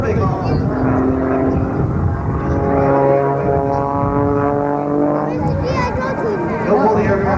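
A propeller aircraft flies aerobatics at a 1994 Rhode Island Air National Guard air show, its engine droning loudly with a rising and falling pitch as it maneuvers, while a voice commentates over the sound.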